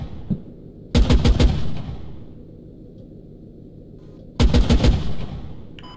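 A CTAS 40 autocannon in a video game fires at a drone in two loud bursts of several rapid heavy rounds, separated by a few seconds of low background rumble.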